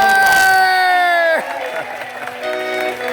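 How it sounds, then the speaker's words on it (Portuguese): Audience at a Festa Junina dance contest at a swimming academy claps and cheers as the winners are announced, a loud crowd mixed with whoops and chatter, with a sustained tone sliding away in the first second. "Uma salva de palmas, uma salva de palmas."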